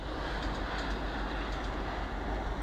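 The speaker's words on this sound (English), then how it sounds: "I think that was a Transpennine Express that went past." A Transpennine Express train passing close by on a railway line beside a nature reserve makes a steady, dense rushing rumble with low wind-like roar throughout, fairly loud and continuous.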